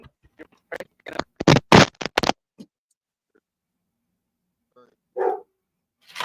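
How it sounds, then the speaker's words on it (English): A pet dog barks in a close burst of several sharp barks, then a single further bark after a pause, with quiet gaps between. "I hear my dog."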